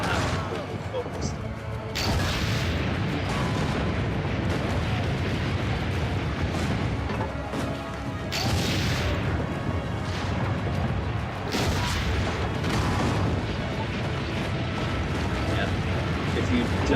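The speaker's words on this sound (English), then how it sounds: "Load the cannon." Cannon fire during a siege battle in Assassin's Creed Brotherhood: heavy booming blasts at irregular intervals over continuous battle noise and mechanical clatter, with a voice talking throughout.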